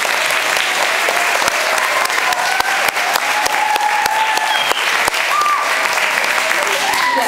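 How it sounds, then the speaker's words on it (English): School concert audience applauds the 3rd grade teachers at an East Farm School spring string concert, giving a loud, dense, sustained round of clapping that stays near and even throughout, with a few voices mixed in. "can we give a big round of applause for the 3rd grade teachers?"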